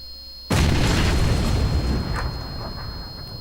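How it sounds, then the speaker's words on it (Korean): A grenade blast in the video game PUBG Battlegrounds, one sudden loud boom after a quiet moment, followed by a long rumbling decay of debris and echo. "또 던졌어요 수류탄"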